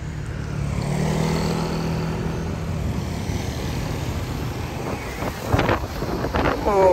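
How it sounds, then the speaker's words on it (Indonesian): Strong wind buffets the microphone throughout at a roadside bus terminal, with a passing bus engine rumbling underneath and some clatter near the end. "Oh, anginnya kencang."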